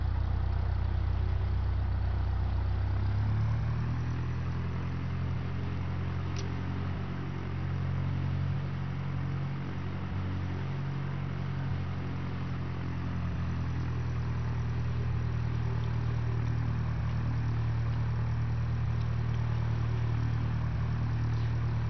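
Cessna 172N piston engine held around 1,500 RPM in FSX flight simulation, a steady low droning hum that settles after a slight drop in pitch early on and continues evenly throughout.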